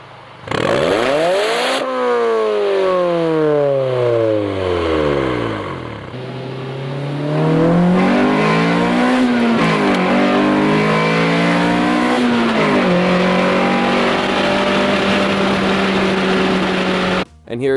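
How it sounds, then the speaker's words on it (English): A naturally aspirated four-cylinder car engine revs hard and loud, pitch sweeping up and down through several sharp rises and falls, then holds a steady high-revving drone near the end. "So here is a 4-cylinder without a turbo."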